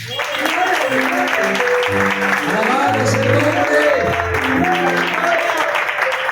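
A church congregation applauds during a Spanish-language sermon, sustained clapping under a preacher's voice with sustained music playing beneath.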